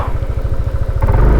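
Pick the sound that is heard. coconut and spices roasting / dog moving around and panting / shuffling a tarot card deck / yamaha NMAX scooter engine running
yamaha NMAX scooter engine running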